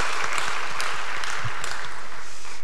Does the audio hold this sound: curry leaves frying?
no